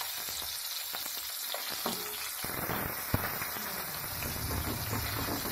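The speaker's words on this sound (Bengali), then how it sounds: "মাছগুলো দু পিস ভালো করে ভেজে নেব।" Two pieces of koi fish fry in hot oil, a dense crackling sizzle with scattered popping spatters and a couple of sharp pops, close and continuous throughout.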